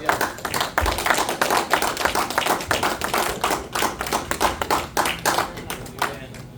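A church congregation claps during a sermon, close, crisp hand claps in an irregular, energetic patter that holds steady, with an occasional thump.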